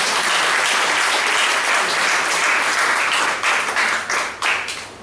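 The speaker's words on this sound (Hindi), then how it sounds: "कि हमें ताली बजाते परमेश्वर के लिए" A church congregation claps for God during a sermon: dense, loud applause runs steadily, then breaks into a few uneven bursts and fades near the end.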